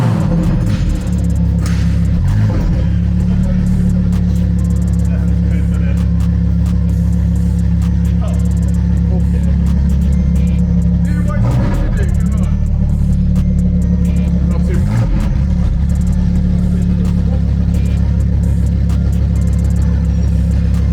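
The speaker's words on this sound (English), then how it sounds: "Who else loves a Lamborghini Huracan STO?" A Lamborghini Huracan STO engine in a video game, a loud, deep, continuous drone with several surges as it revs, running the whole time under someone talking.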